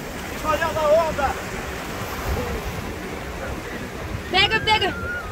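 Ocean waves wash onto a beach in steady, windy surf with wind buffeting the microphone, while a voice calls out briefly over the water near the start and again near the end.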